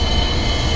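On the Millennium Falcon ride, a train rumbles steadily with a dense low roar and faint metallic hiss, a brief continuous swell of rolling rail noise.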